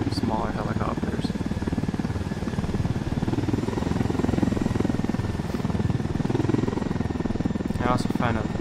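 Helicopter rotor and engine from the Ghost Recon Wildlands video game, a steady loud chopping drone throughout, with people talking over it.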